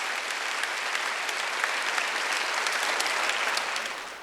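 A church congregation applauding during a Wednesday worship service, a steady crowd of hands clapping for several seconds before tapering slightly at the end.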